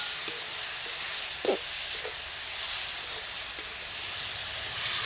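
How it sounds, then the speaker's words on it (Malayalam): Tomato, onion, shallots, green chili and garlic sauté in a pan for a Kerala chicken curry, giving a steady close hiss and sizzle with a few soft stirring knocks, no voices. "തക്കാളിക്ക് ഉള്ളിയും സവാളയും പച്ചമുളകും വെളുത്തുള്ളി എല്ലാം കൂടാണ്"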